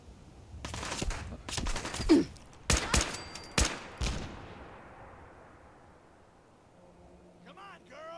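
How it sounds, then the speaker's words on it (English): Gunfire in the video game Fallout 4, a burst of several sharp shots in quick succession, loud and close, with a person talking among them before things quiet to a low hum. "Who's shooting at us?"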